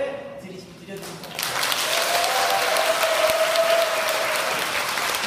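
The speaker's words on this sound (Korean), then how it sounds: "축하의 박수를 드려주십시오." An audience at a recital's proposal event, where a couple's vows have just been made, bursts into loud, sustained applause after a brief quieter moment, continuing strongly to the end.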